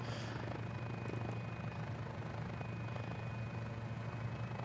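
A small Mini 500 helicopter in Microsoft Flight Simulator gives a steady rotor and engine drone throughout, a constant mechanical hum with a thin whine above it, no voices.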